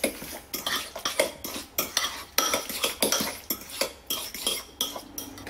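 A spoon mixing tuna dip ingredients with a pinch of salt in a bowl, giving a steady run of clinking, scraping strokes against the dish, close and fairly loud, with no talking.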